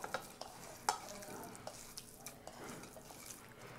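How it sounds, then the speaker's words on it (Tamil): A prawn vada mixture is worked with turmeric and salt by hand, producing soft, quiet squelches and wet stirring sounds in a brief, faint stretch, with a small clink near the start. "உப்பு தேவைக்கு போட்டு மிக்ஸ் பண்ணிக்கோங்க."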